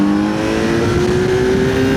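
A 2025 Kawasaki Z900 motorcycle accelerates hard through its gears, its engine note rising steadily in pitch as a loud, close roar with no pauses.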